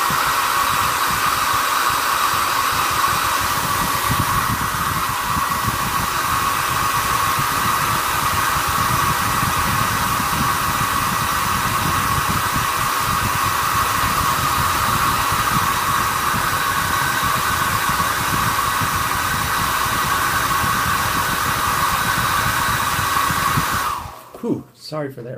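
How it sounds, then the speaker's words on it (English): A hair dryer roars steadily at close range for a long stretch, a constant whooshing hum that cuts off abruptly near the end. "like I am right now, I'll grab my hair dryer"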